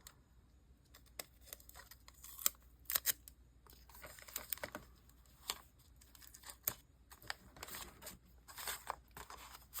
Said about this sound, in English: I'm just going to tape it in.